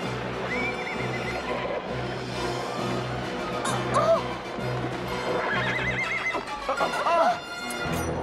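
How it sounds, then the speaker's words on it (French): Horses whinny several times and hooves clip-clop through a busy, dramatic scene with music and voices, on a journey beside the Danube during a storm. "Les chevaux!"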